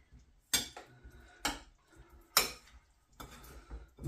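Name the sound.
mixing cornstarch into a chicken stir-fry mixture in a bowl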